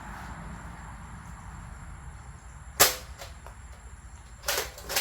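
Air Warriors Air Max Boss toy air gun firing outdoors: two sharp, snappy pops about two seconds apart, each with a short bright burst, over a steady low background hum with no talking.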